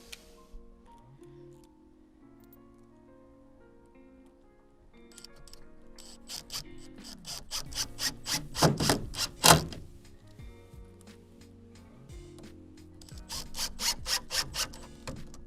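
Screws being driven to fix a saddle clamp onto a strut for garden irrigation plumbing: quiet rubbing at first, then bursts of rapid clicking and ratcheting from a screwdriver, close and fairly faint.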